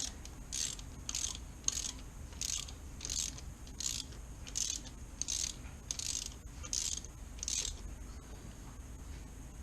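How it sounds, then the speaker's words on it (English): A ratchet tightens a spark plug in a 2V Ford Mustang engine, giving about ten short, evenly spaced bursts of crisp clicking at close range. "go ahead and tighten it up. It doesn't have to be too tight"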